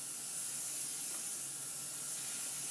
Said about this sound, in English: I will coat with a invisible, UV-resistant spray made by Honey Mule